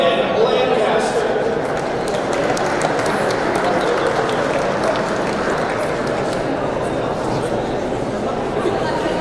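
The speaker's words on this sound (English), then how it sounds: "Give a round of applause." An audience at a University of Guelph scholarship recognition event applauds, a dense, steady wash of clapping from a crowd, with some chatter mixed in.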